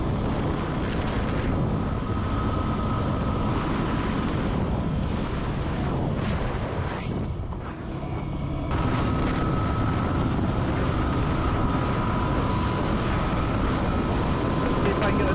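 A motorcycle on Tusk Dsport street tires runs flat out, its steady engine drone buried under heavy, continuous wind roar with a brief dip midway before the rush returns.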